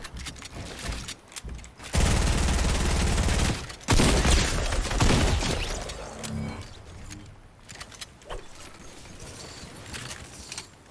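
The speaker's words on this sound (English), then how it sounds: "Gold scars fire rate is so good now." A gold SCAR assault rifle in Fortnite fires in loud, sustained automatic bursts, two dense stretches of rapid gunfire close up, mixed with game effects and thumps. Quieter scattered clicks and impacts follow.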